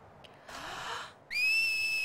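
A clear, sustained whistled note from a character in Final Fantasy X HD rings out after a brief burst of breathy noise, fairly close and alone.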